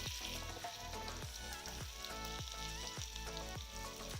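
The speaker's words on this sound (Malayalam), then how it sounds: "അല്പം കൂടി വഴറ്റുക" Spices sautéing in hot oil for a Malappuram-style mango and date pickle, a loud continuous sizzle and crackle with a regular stirring rhythm roughly every half second, close up and with no talking.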